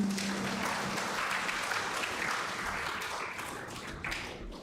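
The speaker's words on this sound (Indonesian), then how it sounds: "Tepuk tangan untuk Tuhan." A church congregation claps hands during a Sunday service, with dense, close clapping that slowly fades, plus a few louder taps near the end.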